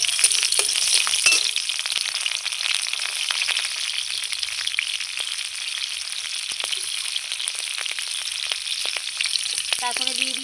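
Slit green chilies fry in mustard oil in a wok, giving a continuous close, bright sizzle with occasional crackles and a faint clink near the end.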